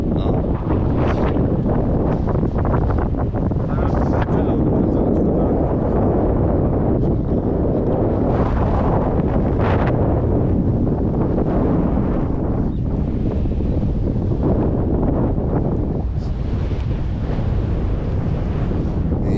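Loud, continuous wind buffets the microphone outdoors, a constant rough roar with gusty surges and no pauses.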